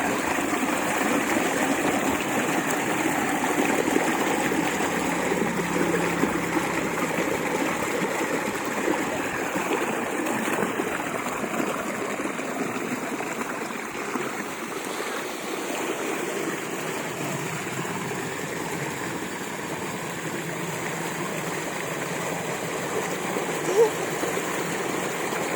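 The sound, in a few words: water flowing from pump into well tank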